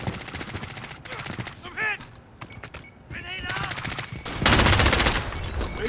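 Bursts of rapid automatic gunfire in Call of Duty: Modern Warfare, clustered volleys separated by short gaps, loud and close, ending in a dense sustained burst, with brief voices in between.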